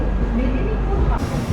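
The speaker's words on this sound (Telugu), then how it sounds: "మన ట్రైన్ కూడా మూవ్ అయిపోయింది ఖరగ్పూర్ నుంచి" A bi-weekly AC superfast express pulling out of Kharagpur platform 3 makes a close, heavy, steady low rumble from inside the coach, with a voice over it.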